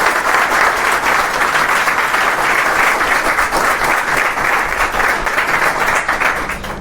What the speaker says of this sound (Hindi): तो एक बार तो मां के लिए ताली तुमको बजानी चाहिए